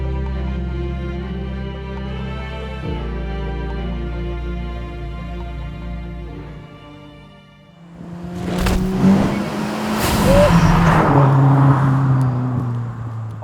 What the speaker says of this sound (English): I give you the Subaru WRX STi 12, codenamed Stormtrooper.